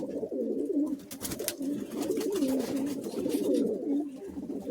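Madrasi high-flying pigeons coo steadily at a pigeon sale, a continuous, close, warbling murmur of several birds layered together with faint background noise.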